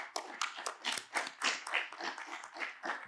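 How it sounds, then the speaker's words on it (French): Audience applause for the panelists at a conference session, steady overlapping hand claps from many people throughout, moderately loud and with no talking over them. "Je voudrais encore une fois que vous les applaudissiez pour la générosité du partage"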